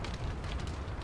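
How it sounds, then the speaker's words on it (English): A grenade blast in the military shooter Spec Ops: The Line, a dense, loud, sustained rumbling roar with heavy low-end energy filling the whole second. "Throwing a grenade."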